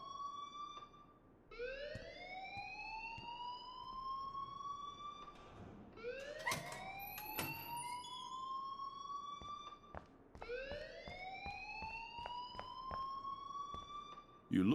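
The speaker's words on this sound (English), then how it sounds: "please turn off that alarm since that's your job" An alarm blares in the Life is Strange video game, a siren-like tone sweeping upward again and again in repeated rising wails every few seconds. It sounds steady and moderately loud, with faint sharp clicks scattered throughout.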